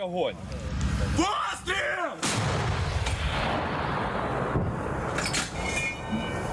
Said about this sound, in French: On tire et l'obus leur arrive dessus 20 secondes après.